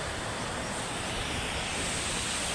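Malinao Falls roars as a dense, unbroken rush of falling water, loud and close with no pauses or other sounds.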